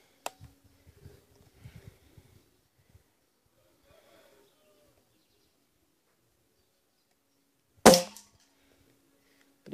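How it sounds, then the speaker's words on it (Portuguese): A single sharp gunshot at a can target cracks out after a long quiet stretch, preceded by faint scattered clicks and rustling. "Vamos efetuar o primeiro tiro."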